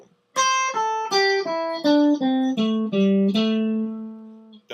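Unaccompanied guitar picks a descending single-note blues riff, about ten clear plucked notes in steady rhythm, each ringing briefly before the next, ending on a held low note.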